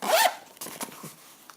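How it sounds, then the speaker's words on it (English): A chrome zipper on a waterproof toiletry bag is pulled in one quick, close rasping stroke, followed by a few soft fabric rustles and small clicks. "nice chrome zip."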